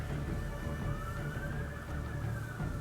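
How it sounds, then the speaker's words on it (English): Several police car sirens pass by outside, a steady wail at moderate distance behind a constant low rumble of traffic, with no talk over them. "now there's a bunch of police cars driving by"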